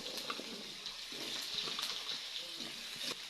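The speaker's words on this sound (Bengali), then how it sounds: "পটল ভাজার পরে তেলটা খুব কালো হয়ে গেছে, আলু দিয়ে দিচ্ছি, কেটে রাখা ধোয়া আলু।" Washed, cut potatoes frying in darkened mustard-style oil reused after frying pointed gourd, a steady low sizzle with faint clinks, no talk.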